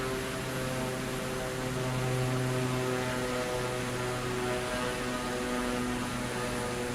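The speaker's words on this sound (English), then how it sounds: "We'll come right around for final approach and then go full on for flaps." Steady propeller aircraft drone on final approach in Microsoft Flight Simulator 2024, a continuous loud engine hum with constant tonal harmonics and no pauses.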